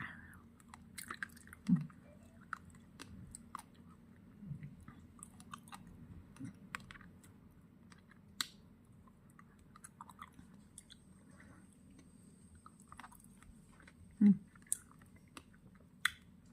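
Soft, wet chewing and occasional bites into juicy cold-climate fruit, close and quiet, with sporadic louder crunches and clicks over a faint background hum.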